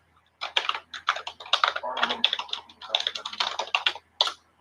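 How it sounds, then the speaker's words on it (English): Rapid typing on a computer keyboard, a dense close-up patter of key clicks in quick bursts with short pauses, alone without speech. "I type kind of fast. I think typing fast is a good skill to have."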